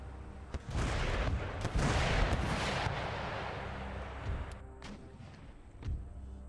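Cannons fire round shot in an Empire: Total War battle with Poland-Lithuania, a ragged volley of booming reports that swells into a sustained rumble, followed by a few scattered, fainter shots.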